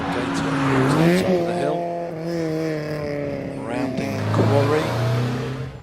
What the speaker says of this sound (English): for Daniel Gator into Farmhouse Bend in the Citroen Saxo VTS